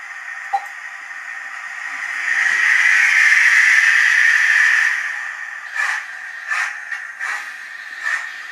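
A Lord Nelson model steam locomotive sound hisses steadily, swelling into a loud burst of steam, then a few short chuffs and ticks as it starts off.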